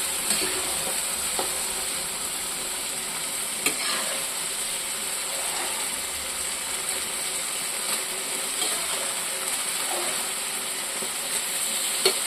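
Fried ridge gourd sautés in a pan with a constant close sizzle, broken now and then by the scrape and clink of a spatula against the pan; no talking.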